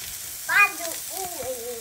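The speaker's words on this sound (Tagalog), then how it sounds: "lagyan na natin ang ating labong" Bamboo shoots tumble into a hot pan for ginataang labong, giving a short burst of sizzle and stirring that settles into a soft, steady fry with a few scraping clinks.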